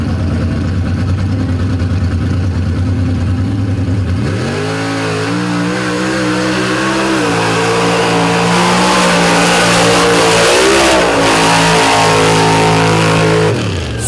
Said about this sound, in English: leaf-sprung truck should fly right through here